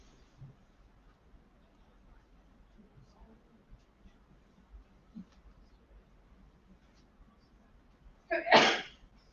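One sudden, loud sneeze bursts out near the end of a long quiet stretch in a London ecommerce workshop room, with faint murmurs and small noises before it.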